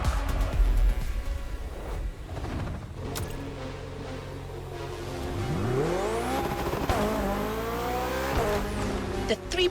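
A BMW 3.0 CSL driving in The Crew Motorfest, its engine note climbing through the gears in rising sweeps, loud and close, with some tire noise while a voice talks over it.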